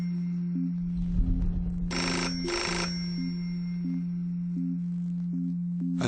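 A telephone rings at a farmhouse in a tense kidnapping-ransom wait, a steady electronic tone with repeated chirping pulses and two loud bursts of ringing near the middle, with no voices.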